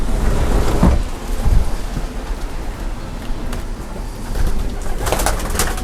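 Racing pigeons coo in a loft, soft repeated cooing close by with rustling and scattered bumps, no speech.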